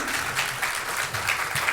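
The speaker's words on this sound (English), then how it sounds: "So a big round of applause for Manjiri." Audience applause at the inauguration ceremony of a literary festival: a steady, dense patter of many hands clapping, moderately loud and continuous throughout, with no voices over it.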